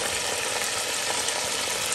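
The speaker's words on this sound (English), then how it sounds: "So we're going to cook meat with the oregano." Meat with a sprig of oregano fries in a pan for a Calabrese-style pizzaiola, a steady, dense sizzle holding evenly throughout with no voices.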